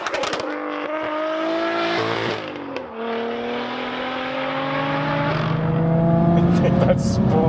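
Highly tuned BMW M2 with a big single turbo and about 650 bhp, its engine revving hard and the turbo spooling up in rising whistling tones under flat-out acceleration, loud and close, with a brief gear shift dip midway.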